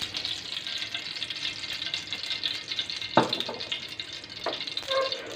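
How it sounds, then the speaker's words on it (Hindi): Oil heating in a pan for aloo chapli kabab, giving a steady soft sizzle and crackle throughout, with a couple of sharper clicks or pops from utensils or splatter; no talking. "सबसे पहले हम पैन में ऑयल डालेंगे।"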